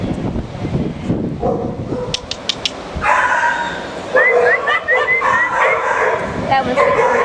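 Mixed-breed dogs in a crowded animal shelter bark, yip and whimper close by, with high whiny yelps and sharp barks, while people talk and call to them.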